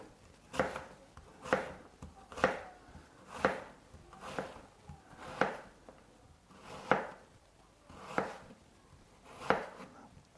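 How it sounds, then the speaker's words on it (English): Knife chopping an onion on a board, one firm chop about every second, ten in all at an even pace, close and clear against a quiet kitchen. "I want my onion to be finely chopped"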